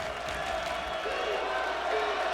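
Basketball arena crowd at NC State, a dense steady roar of fans trying to rattle a free-throw shooter, sustained at a fairly even loudness throughout.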